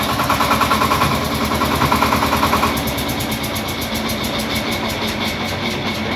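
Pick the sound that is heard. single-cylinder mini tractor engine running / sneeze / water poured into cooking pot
single-cylinder mini tractor engine running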